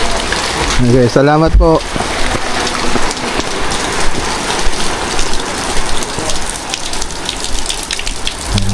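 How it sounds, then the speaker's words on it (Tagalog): Steady rain pours down on a surface outdoors in the Philippine countryside, a dense continuous hiss throughout, with brief speech near the start over the downpour. "Umuulan pa rin."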